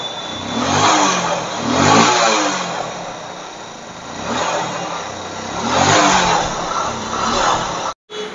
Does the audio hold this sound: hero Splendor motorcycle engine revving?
yes